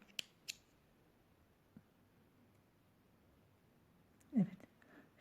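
Scissors snipping crochet thread during Turkish needle lace work, a few faint quick clicks in a quiet room followed by a slightly louder cut near the end.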